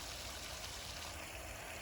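Spring-fed water runs steadily from a little drain pipe down toward a creek beside backyard goldfish ponds. The flow makes a continuous, even rushing hiss with no breaks, fairly quiet and heard from nearby.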